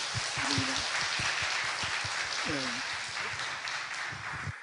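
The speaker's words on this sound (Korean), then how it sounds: "우리 잘 하라고 한번 격려의 박수 해주시기 바랍니다." Church congregation clapping in encouragement during a Sunday service, a steady wash of applause while a voice speaks over it intermittently.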